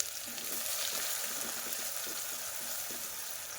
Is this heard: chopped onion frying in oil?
yes